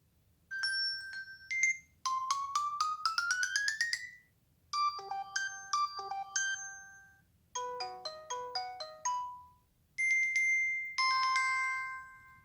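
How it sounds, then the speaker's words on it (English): A melodic electronic ringtone from a Samsung Galaxy Watch plays in several short chiming phrases with brief pauses between them, bright and clear against near silence. "Now let's see what we got for ringtone."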